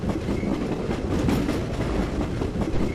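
Train on rails as a video game sound effect: a continuous close rumble with rhythmic clickety-clack wheel beats, steady and alone.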